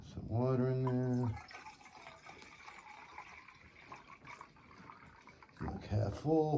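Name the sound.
water being poured into a container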